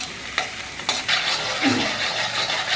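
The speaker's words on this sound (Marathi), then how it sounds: "त्याला थोडंसं आपल्याला तडतड करून घ्यायचं." Coriander seeds crackle and sputter in hot oil as a tempering for pigeon pea ghugarya, with a spoon stirring through them: a steady close sizzle broken by a few sharp scrape and pop accents.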